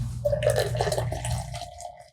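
Beer poured straight into a glass without tilting, foaming up, a short gurgling splash that runs steadily and then tapers off, heard up close with no talking.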